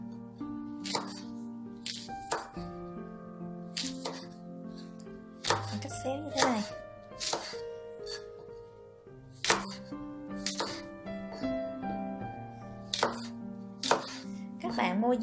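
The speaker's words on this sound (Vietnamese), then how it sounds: "Bây giờ cái đậu bắp của mình ha các bạn, mình đem ra và mình sẽ cắt xéo như thế này nè các bạn." A knife slicing okra diagonally on a cutting board, a series of crisp, irregularly spaced chops and taps close up, with a voice heard between some of the cuts and a faint musical tone in the background.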